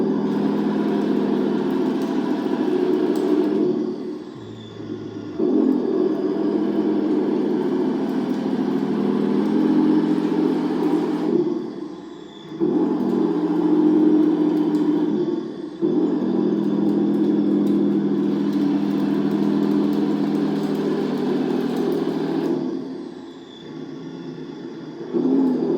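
A Heng Long KV-2 plastic RC toy tank's engine sound effect drones steadily and loudly from its speaker, with a few brief dips and revving changes as the tank moves around; no talking.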